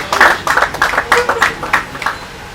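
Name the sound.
audience applause at event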